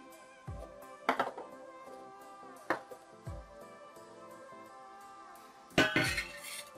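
A large metal cooking pot handled in a home kitchen while making maize-flour kachori, giving a few scattered clanks and clinks over about seven seconds, with a louder clatter near the end and quiet pauses between.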